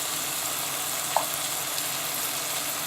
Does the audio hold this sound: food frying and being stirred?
yes